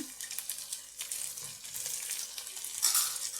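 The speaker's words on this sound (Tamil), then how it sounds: "அடுத்தது வெட்டி வச்சிருக்கிற கேரட் கோவா லீஸ்ட் குடமிளகாய் இவ்வளோத்தையும் போட்டு வதக்குவோம்" Chopped carrot, cabbage, leek and capsicum sautéing in a pan for kottu roti, a moderate crackling sizzle with a few soft stirring scrapes.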